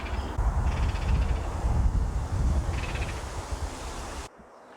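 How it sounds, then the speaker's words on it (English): A Baltimore Oriole gives a chattering call from a willow, rapid harsh notes repeated in short bursts over wind and rustling leaves, fairly close and loud before cutting off abruptly. "In this willow, you'll find a Baltimore Oriole's nest, and if you hear a little chattering,"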